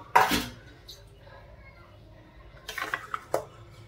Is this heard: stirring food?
yes